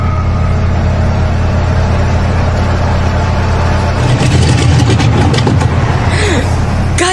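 A vehicle engine in a horror radio drama rumbles loudly and steadily, then turns rough and sputtering partway through before cutting out near the end.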